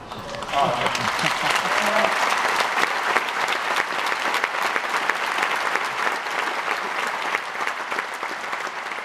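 A theater audience at a gay choral festival gala breaks into loud, sustained applause, with dense, even clapping filling the room for the whole stretch and a few brief voices at the start.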